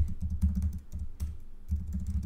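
Rapid typing on a computer keyboard, close and clear, in several quick bursts of clattering keystrokes with brief pauses between them.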